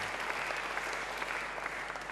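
Congregation at a church service applauding, a steady dense wash of many hands clapping at a moderate, slightly distant level for the full stretch, with no talk over it.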